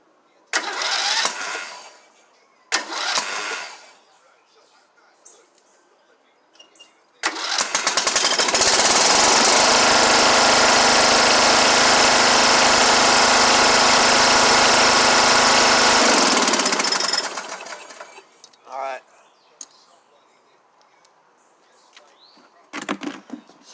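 A Briggs and Stratton small engine with a freshly replaced starter ring gear cranks in a few short loud bursts, then catches and runs steadily at close range for several seconds before cutting off, followed by brief scattered clatter.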